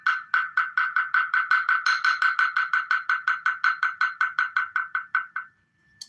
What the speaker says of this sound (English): This is a Zen wooden bell or a mallet, basically.